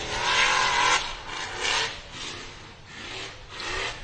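Nick Reich's Fordzilla race vehicle roars up a hill at speed during a rush race, a loud rasping engine note that surges and fades in rough waves, close and alone without voices.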